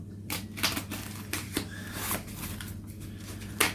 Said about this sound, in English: Right, I'm going all the way around with the scissors.